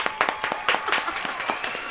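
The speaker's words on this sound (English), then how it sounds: "Can we have a round of applause for Steph," Light applause from a small group at a live podcast recording, a handful of distinct claps in a loose, uneven rhythm, fairly close but not loud.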